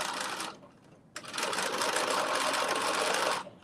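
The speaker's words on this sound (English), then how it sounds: "I am just creating my casing, and I'm doing it exactly the same way I create that narrow hem, which is just turn it under as I'm sewing it." A sewing machine stitches a casing by turning the fabric under as it sews, the same way as a narrow hem. Its steady close whir stops briefly, then runs on evenly for a few seconds before stopping.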